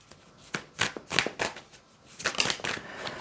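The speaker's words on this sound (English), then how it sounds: "Even the way the cards are shuffling and coming out" Tarot cards are shuffled by hand during a reading: close, crisp riffles and taps come in uneven bursts with brief pauses between them.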